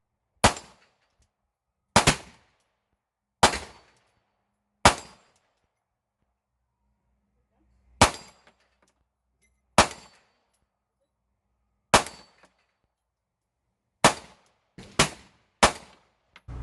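Eleven sharp metallic pistol shots ring out one at a time at irregular intervals, each a bright clang off a 25-yard steel plate rack, fired from a small pistol fitted with a budget green dot optic, with silence between hits.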